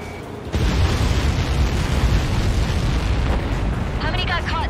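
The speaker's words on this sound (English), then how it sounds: "How many got caught in that explosion?" A massive in-game explosion from Helios projectiles in Ace Combat 7 bursts in after a short quiet lead-in, then roars on as a loud, sustained rumbling blast with no letup.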